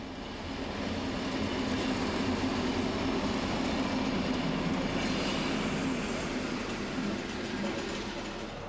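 A train hauled by a class 212 diesel locomotive, number 212 138, rolls past on the line to Trossingen, a loud, steady rumble of engine and wheels on rails that swells and holds for several seconds.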